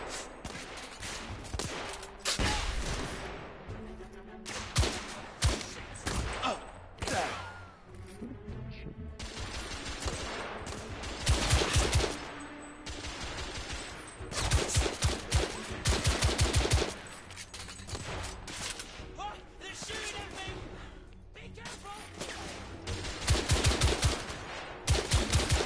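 Gunfire in the video game The Order 1886, with a shotgun among the weapons: dense, repeated loud blasts and bursts of shots across a chaotic firefight, with brief gaps and almost no talk.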